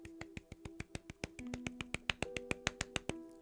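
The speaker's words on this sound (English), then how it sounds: "That was me clapping." One person claps quickly and evenly, about twenty sharp, close claps in a rapid rhythm over faint steady tones in the background.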